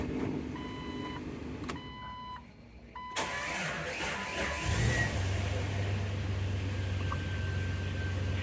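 Warning chimes ring inside a Jeep with a manual gearbox before the engine cranks and catches, settling into a steady, slightly surging idle after a disconnected battery was reconnected.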